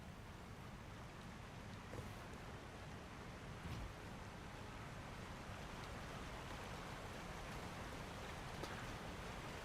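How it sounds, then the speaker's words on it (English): Steady rushing roar of a waterfall in the Elden Ring video game, a continuous broadband wash of falling water that holds constant throughout without a break. "there's basically a waterfall."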